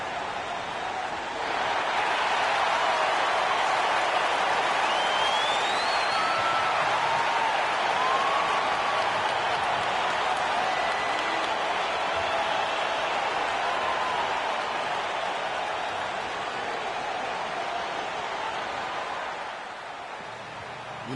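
An arena crowd in an NBA 2K basketball game applauds and roars at center court, a broad sustained wash of clapping and cheering with faint whistles that swells early, holds steady, then eases off toward the end.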